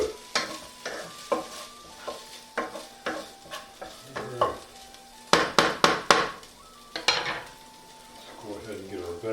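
Chicken fried rice is stirred in a frying pan, a utensil scraping and clanking against the metal in repeated sharp strokes over a soft sizzle, close up with no talk.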